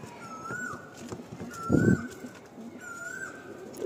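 Pigeons coo softly in a loft, with a throaty coo rising briefly near the middle over a quiet, steady background of other faint bird calls.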